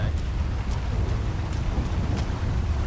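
Thunder and rain during a lightning storm in the video game GTA V, a dense continuous hiss of rainfall with a low rumbling undertone, steady and fairly loud with no voices.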